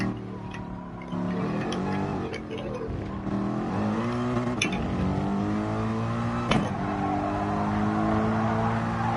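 Mercedes AMG race car in the Gran Turismo video game during a qualifying lap, its engine droning steadily with rising and falling revs through gear changes, loud and continuous with a few sharp clicks.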